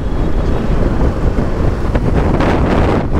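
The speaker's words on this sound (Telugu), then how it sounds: "గాలి మాత్రం విపరీతంగా వస్తుంది తెలుసా?" Strong wind roars steadily against the microphone of a motorbike rider on a long solo highway ride from Vizag to Telangana. It is a loud, constant buffeting rumble with no voice heard.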